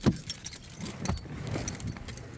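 Car keys for a Nissan 370Z jangle close by, with a sharp metallic rattle at the start and lighter clinks following over a couple of seconds.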